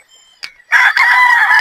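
A rooster crows loudly and close by at feeding time on a backyard poultry farm, a long sustained call after a short preceding cluck, with no talk over it.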